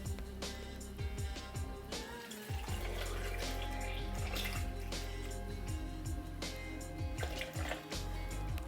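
Milk pours over bananas in a blender jar for a chocolate smoothie, a steady liquid stream with gurgling and dripping, close and fairly quiet, with no talk.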